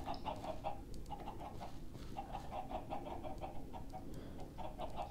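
Minecraft chickens cluck in short repeated bursts, fairly quiet, over a low rumbling background with no talking.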